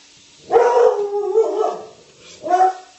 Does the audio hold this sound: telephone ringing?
no